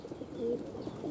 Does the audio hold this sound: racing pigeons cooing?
yes